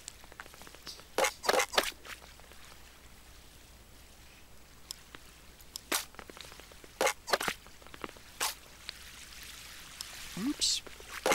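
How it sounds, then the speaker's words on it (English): Water poured out in Minecraft, heard as short splashy bursts scattered among sharp clicks over a quiet background, with a low voice-like murmur at the end. "Oops. Spilled some water."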